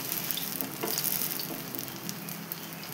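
Dal bora, lentil fritters, frying in a pan with pumpkin, giving a bright continuous sizzle with small crackles and spatters, steady and close with no voices.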